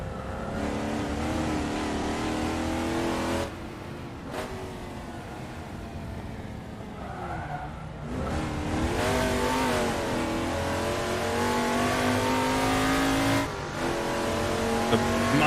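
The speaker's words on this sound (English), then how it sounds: "Mustang streaming by. Mustang is so quick." Mustang touring cars lapping a circuit in the racing game Assetto Corsa, engines screaming through rising and falling gear changes as the cars pass close, a steady loud roar with no talk.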